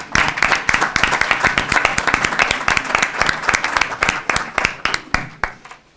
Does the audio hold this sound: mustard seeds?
no